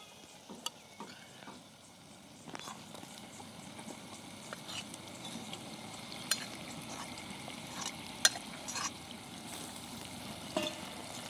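Prawns frying in a pan with ground masala paste, a steady soft sizzle throughout with occasional sharp clicks of stirring, close and fairly quiet.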